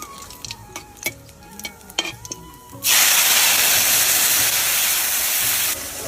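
Spice paste hits hot oil in a pan already holding bay leaf, dried chili and cumin, bursting into a loud, steady sizzle and hiss after a few quiet clinks and stirring taps, then easing slightly near the end.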